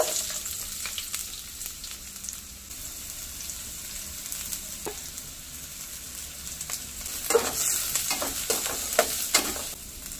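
Sliced onion fries in hot coconut oil for a masala roast with garlic, a steady close sizzle that grows busier toward the end with bursts of stirring scrapes, and no talking.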